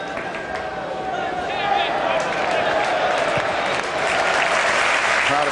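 A football crowd at a 1994/95 West Ham United match applauds steadily, a broad sustained wash of clapping that swells partway through, with a commentator's voice faintly over it.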